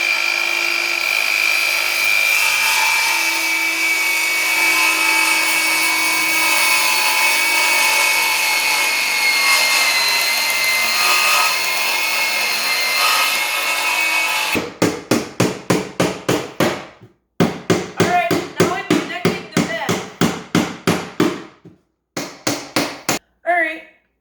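Wood being cut by hand to make the back of a simple spice rack, a loud steady drone of tool noise giving way to a fast run of rhythmic saw strokes, close and with short pauses.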